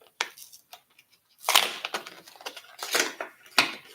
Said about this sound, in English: Let's see if I can open these scissors.